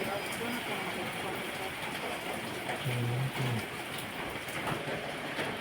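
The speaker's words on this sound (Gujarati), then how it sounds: "આપણે એટલામાં વરસાદ જોઈ લ્યો. ઉપર પતરાનું શેડ છે એટલે અવાજ આવતો હોય છે ખતરનાક" Heavy rain drums on a tin sheet shed roof in a village, making a dense, steady, loud roar that never lets up. A brief low hum rises partway through.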